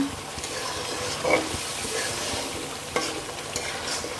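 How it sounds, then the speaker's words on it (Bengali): Chicken curry sautéed and stirred in a pan, a continuous busy sizzle with scraping spoon strokes and occasional louder clacks against the pan, close up. "এখন আমি একটু কষানি করে নিচ্ছি"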